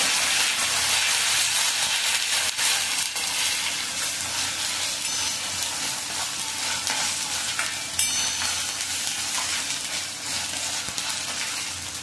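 Ginger garlic paste fries in a pan with a little coriander for kairi moong dal amti, a steady close sizzle and crackle with faint stirring scrapes throughout.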